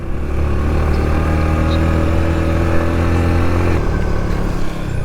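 A motorcycle engine runs loud and steady at close range, holding a constant droning revs before a slight drop in pitch near the end, on a climbing road near Cardona, Rizal.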